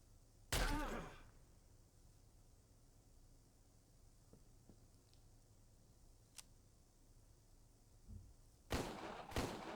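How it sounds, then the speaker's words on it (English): Gunfire in the video game Empire of Sin: a loud sharp shot near the start, then a quiet stretch with faint clicks, and two more heavy bursts close together at the end. "he missed with both his shots"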